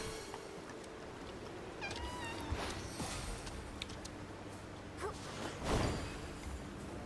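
Cats meow in the video game Infinity Nikki, with a few scattered, fairly faint meows rising over a soft, steady ambient game background. No one speaks.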